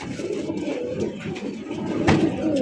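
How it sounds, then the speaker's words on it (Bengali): Big-sized racer pigeons coo in low, rolling, throaty calls that carry on continuously at close range, no voices heard. "একদম দেখার মতো বিগ সাইজের মধ্যে পাইতেছেন সুপার মিলি রেসার কবুতর।"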